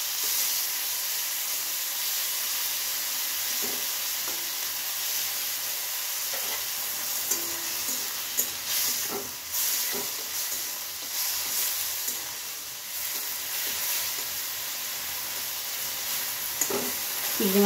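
Prawns frying in hot oil in a pan, a steady close sizzle with crackles and spits that pop up now and then across the whole stretch.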